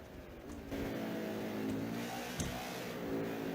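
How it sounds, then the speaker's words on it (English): A NASCAR stock car engine in the video game NASCAR 21: Ignition, on the Charlotte road course, drones steadily at high revs, swelling briefly partway through, with a brief thump near the middle and no voices. "The engine sounds great."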